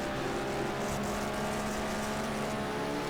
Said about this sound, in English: I can hear that Corvette as well.